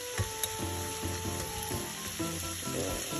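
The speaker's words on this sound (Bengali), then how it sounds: "সরিষার তেলে রান্না করলাম।" Shrimp stir-frying in mustard oil with turmeric and paprika, a continuous soft sizzle with a few sharp crackles and pops, fairly quiet and close, no talking.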